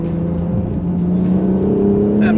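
Inside the cabin of a 2017 Honda NSX in Sport Plus mode, the engine drones loud and steady, its tone climbing slightly as the car accelerates.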